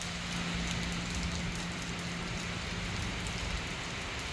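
Steady rain pours down throughout with strong wind, a dense even hiss with scattered drops, no voices.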